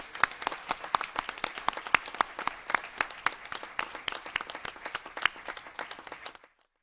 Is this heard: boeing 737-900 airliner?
no